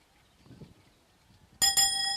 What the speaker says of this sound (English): Oh, there's the bus bell.